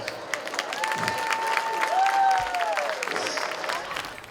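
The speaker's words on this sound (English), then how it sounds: "Join me in a round of applause" Outdoor audience applauding at a Wall of Honor ceremony on a football field, a soft spread of clapping and light cheering, with a sustained tonal sound gliding through the middle.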